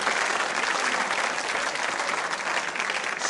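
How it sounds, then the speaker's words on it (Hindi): Loud, dense audience applause fills a school quiz-show hall, steady and sustained from start to finish with no break. "जोरदार तालियां बजाइए, जोरदार तालियां बजाइए।"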